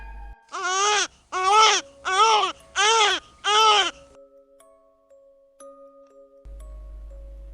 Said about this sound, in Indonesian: ada suara tangis bayi.